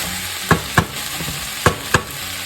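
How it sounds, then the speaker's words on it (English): Bitter melon and beef stir-fry sizzles in a pan as a utensil stirs it, with four sharp, close clacks of the spatula against the pan in two quick pairs over the steady frying hiss. "Give it a stir. A little more stir."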